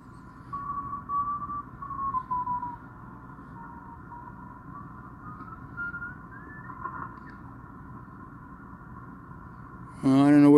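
A thin, steady tone drifts slightly in pitch over a quiet receiver hiss, a Morse code CW signal on a homebuilt radio receiver with its CW filter on, before a sudden burst of noise.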